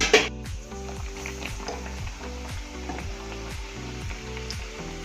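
Bread pakoda frying in hot oil in a pan, a steady crackling sizzle that continues through the clip, with tonal background music underneath.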